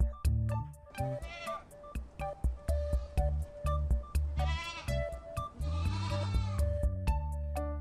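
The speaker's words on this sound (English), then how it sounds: "Z for goat." A goat bleats several times over a children's phonics song, its repeated cries riding on top of steady music with a bouncy beat.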